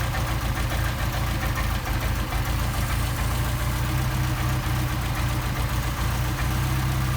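A Solex moped engine with leaking throttle shafts runs steadily up close, a loud buzzing mechanical drone that holds level throughout with only slight wavering in pitch.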